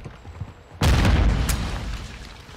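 A Semtex grenade detonates in Call of Duty: Modern Warfare II, a sudden loud boom after quiet background noise, followed by a rumbling, crackling tail and a sharp secondary crack.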